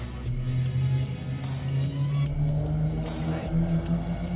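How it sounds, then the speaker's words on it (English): A Honda Civic with a loud exhaust rumbles steadily nearby, a deep engine drone holding on with slight rises in pitch, with a few faint clicks and no voices. "Bro, you hear that Civic?"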